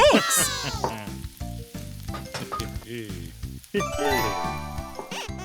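Curry fried rice sizzles in a pan while being mixed with curry powder, steady frying hiss broken by clinks and scrapes of the stirring utensil, with bright tinkling tones and music-like accents over it.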